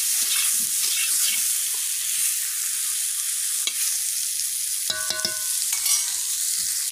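Brinjal and raw banana frying in hot oil in a pan, stirred with a spoon: a steady, loud sizzle runs throughout, with a short burst of metallic scraping and clinks near the end and no voices.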